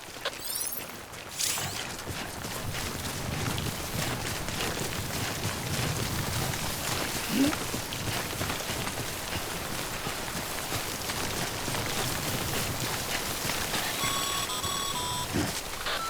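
Steady timefall rain from the video game Death Stranding hisses and patters continuously for the whole stretch, dense and even, with faint beeping electronic tones near the end.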